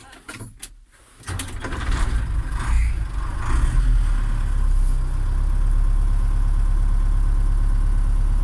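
An MB Trac 900 Turbo tractor engine running, settling after a brief clatter at the start into a loud, steady low rumble that stays close throughout.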